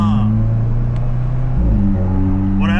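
A stock turbo Audi S3 in manual mode drones steadily from inside the cabin, the engine note dipping briefly mid-clip as it upshifts before settling back into a lower, even hum.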